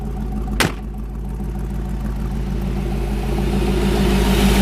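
A 1956 Chevrolet Bel Air engine idles close by with a steady, low rumble that builds slightly toward the end. A single sharp click sounds early on, and there is no talk.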